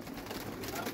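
Pigeon at a pigeon club, Army breed, giving a low, muffled coo under nearby chatter, close and faint within a brief, noisy moment.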